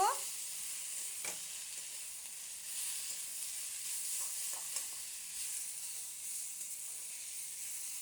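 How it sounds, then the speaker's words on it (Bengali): Katla fish oil and fat frying with crushed garlic, a steady close sizzle and hiss with faint scraping of stirring throughout, no voices. "এইবার সবগুলোকে নাড়িয়ে চাড়িয়ে নেব।"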